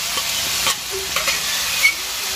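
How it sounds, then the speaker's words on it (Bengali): Mixed vegetables frying with cumin paste and ground garlic in a pan, a loud steady sizzle with a few stirring scrapes and clinks, no talking. "জিরাটা দেওয়ার পর আর একটু ভাজতে হবে, যাতে জিরার কাঁচা গন্ধটা না থাকে"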